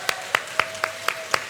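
A church congregation claps in steady unison, six sharp evenly spaced claps about a quarter second apart, moderately close, with no voices over them.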